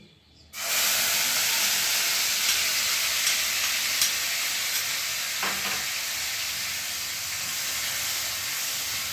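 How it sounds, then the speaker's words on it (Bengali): A loud, continuous sizzle and hiss starts abruptly as ground spice paste hits hot oil in a wok over medium heat, then keeps frying steadily with no voices. "এই বাটা মশলাটা আমি এবার কড়াইতে দিয়ে দিচ্ছি।"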